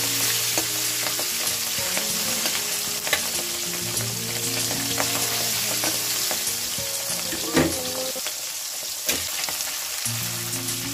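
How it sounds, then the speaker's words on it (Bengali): Turmeric-coated puti fish frying in hot oil, a loud steady crackling sizzle close by with a few sharp spatters and pan knocks, no talking. "তেলটা গরম হয়েছে, নিলাম। এখন আমি মাছটা দেবো, ভেজে নেব।"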